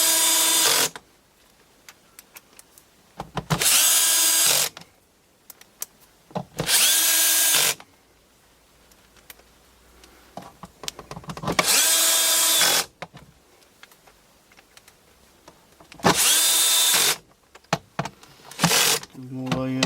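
Power drill driving screws into a Bosch washing machine door hinge, five loud whirring bursts of a second or two each separated by quiet pauses with faint handling noise, and brief talk in between.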